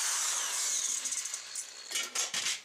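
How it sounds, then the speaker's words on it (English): A power drill bores out rivets on a metal PC case, a high whining grind that fades into several short bursts toward the end, close and loud. "So I'm just going to go ahead and start drilling them out."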